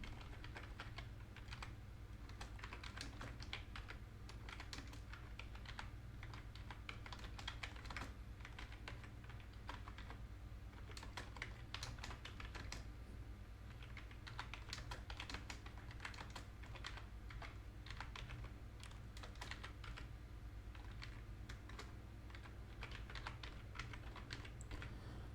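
Rapid continuous typing on a computer keyboard, dense steady clicking of keys close up over a low constant hum, with no voices.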